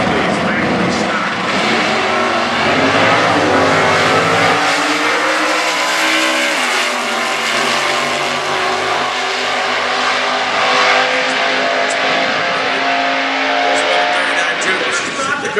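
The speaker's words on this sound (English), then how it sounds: "It's 383, big block engine under the hood, and again, it's a 1963 Dodge." A 1963 Dodge factory stock drag car with a 383 big block engine rumbles loudly and revs at a drag strip, its engine note rising and holding steady throughout, with a voice talking over it.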